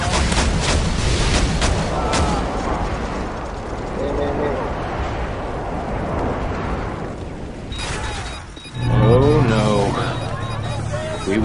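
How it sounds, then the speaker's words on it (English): Friendly airstrike explosions rumble through a chaotic video game match, a continuous barrage of booms and gunfire with a heavy blast near the end, while voices chatter over the battle noise. "Friendly airstrike on the way."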